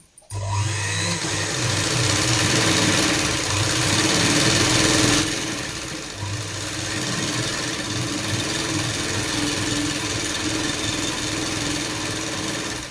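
Sewing machine stitching tucks into a petticoat hem to shorten it, a loud continuous mechanical whir with steady rhythmic needle clatter that briefly dips midway, then carries on without voices.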